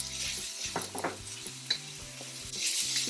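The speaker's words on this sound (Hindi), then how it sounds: "अब इसमें ग्रीन बेल पेपर और साथ ही इसके हम रेड पेपर डाल देंगे।" Green and red bell peppers hit a pan for a macaroni salad, giving a quiet sizzle with a few scrapes and clinks of stirring before the hiss rises again near the end.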